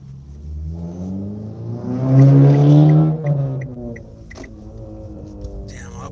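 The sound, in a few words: loud combustion-engine car driving by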